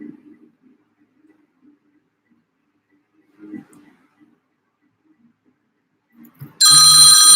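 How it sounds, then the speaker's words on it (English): A telephone ring bursts in loudly and alone near the end, a bright sustained electronic ringing after long near-silence broken by a few soft thumps and handling sounds. "Sorry, I got a phone call."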